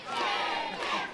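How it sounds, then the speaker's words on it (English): A wrestling crowd at a British wrestling show yells and jeers at a wrestler in one sustained, loud burst of massed voices lasting about a second. "The crowd letting Fentos know what they think."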